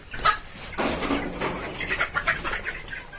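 Kadaknath and Aseel chicks chirp close by in quick, overlapping high peeps that come in busy clusters across the whole moment, with no talking.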